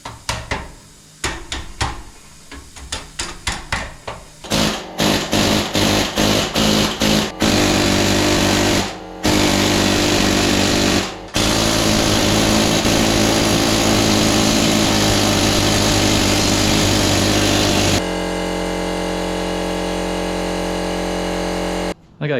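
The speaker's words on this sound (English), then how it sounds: "I'm going to grind this weld off" An angle grinder grinds off a weld on a homemade sheet metal tool, starting with short stuttering bursts and then settling into a long, loud continuous whine with brief cutouts.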